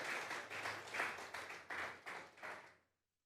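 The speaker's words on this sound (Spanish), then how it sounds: "Vamos a regalarle ofrenda de palmas al Dios de la..." A church congregation claps together as an offering to God, a rhythmic series of about eight clap bursts that fade out at the end, fairly faint.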